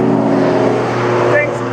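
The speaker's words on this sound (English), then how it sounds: "Revving up your engine." A car engine revs with a steady low droning hum and harmonic layers, sounding close and loud, while a voice seems to speak over it.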